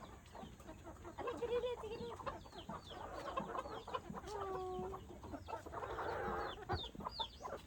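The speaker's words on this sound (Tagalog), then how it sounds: "Boy, we have an American chicken." A white American chicken clucking in a rural Philippine yard, several soft clucks and short calls near and fairly quiet over a busy outdoor background with other birds.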